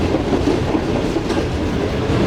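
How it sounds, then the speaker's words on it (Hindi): The Shalimar Express passenger train from Lahore to Karachi in Pakistan runs on its rails as it enters Faisalabad, heard from on board as a loud, steady rumble with clickety-clack. "9:35 पर ट्रेन हमारी फाइनली एंटर हो चुकी है फैसलाबाद शहर में"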